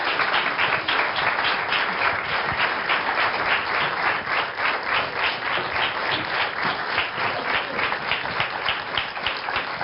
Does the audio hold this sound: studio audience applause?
yes